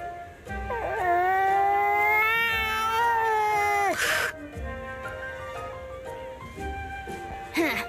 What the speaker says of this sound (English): There, that's a good kitty